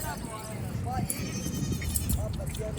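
A goat bleats among livestock at a Lahore goat market, giving short cries that come through over steady nearby men's conversation and general market noise.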